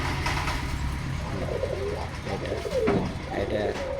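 Soft, repeated pigeon cooing, several low throaty calls in a row against a steady hum of background noise, with faint voices nearby.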